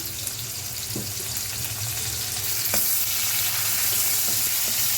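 Chopped onion frying in a pan as the base for mutton curry, giving a steady close sizzle with a couple of faint stirring taps and no voices.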